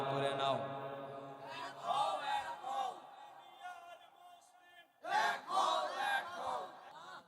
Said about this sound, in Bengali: দু হাত জাগায়া হাতটা তুলে নারে তাকবীর স্লোগান দেই, নারে তাকবীর, নারে তাকবীর